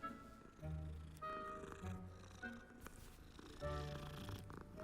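Cat purring as it is petted in the video game Hogwarts Legacy, a low rumbling purr mixed with game music and chimes, moderately loud and steady.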